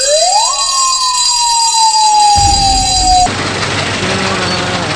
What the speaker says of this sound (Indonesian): Mobil damkar ya teman-teman.